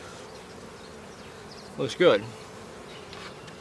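Honeybees buzz around an open hive during a second deep brood box check in August, a low, continuous hum that swells into a brief louder burst near the middle while a person speaks a few words.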